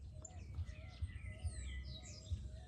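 A female double-collared seedeater (coleirinha) feeds in a backyard, giving faint, thin chirps scattered through a quiet outdoor background with low thumps and light ambient noise.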